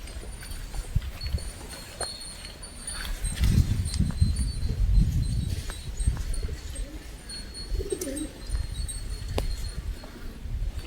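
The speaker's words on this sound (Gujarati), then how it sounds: "કેવો નજારો બને. કબૂતરો ઉડ્યા એટલે" Pigeons coo and take off together outdoors near cows being fed, a burst of wing flutter rising in the middle and then fading, with soft calls and low rumbling throughout and no talk.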